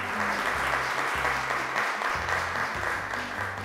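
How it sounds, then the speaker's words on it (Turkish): Studio audience applause for both tables on a quiz show, a steady, even roar of clapping sustained throughout, with low tonal hum underneath and no talk. "Her iki masamızı da alkışlayalım mı?"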